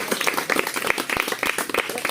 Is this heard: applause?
yes